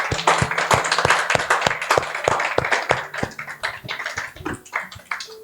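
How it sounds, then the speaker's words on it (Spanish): A church congregation claps together in a worship service, sharp individual hand claps in a loose, uneven rhythm that thins out toward the end, close and lively with no voices over them. "¿Por qué no le da una ofrenda de palmas al Señor?"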